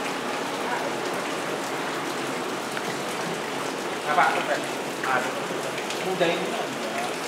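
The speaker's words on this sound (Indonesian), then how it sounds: "Hujan lebat-lebat." Heavy rain pours steadily in a forested area of Indonesia, a dense, continuous hiss with occasional louder splashes, while people exchange a few brief words over it.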